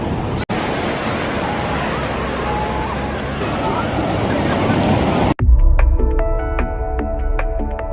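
Steady roar of surf washing violently onto a beach at Corona del Mar, with wind buffeting the microphone; the noise cuts off abruptly near the end, replaced by music.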